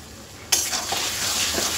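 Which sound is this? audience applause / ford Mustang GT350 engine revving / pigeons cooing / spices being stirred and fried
spices being stirred and fried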